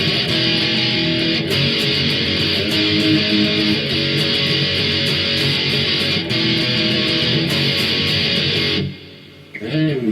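Heavily distorted electric guitar drives through the pre-chorus of a song, a dense, loud wall of palm-muted and ringing power chords that continues steadily before cutting off near the end.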